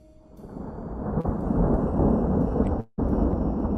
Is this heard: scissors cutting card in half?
no